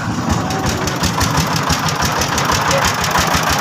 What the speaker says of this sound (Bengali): এই যে বাইক স্টার্ট দিয়ে চলে যাচ্ছে